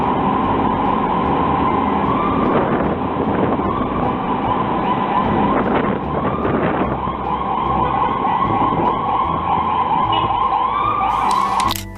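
An ambulance siren wails steadily in street traffic, loud and continuous, with engine rumble and road noise underneath it throughout.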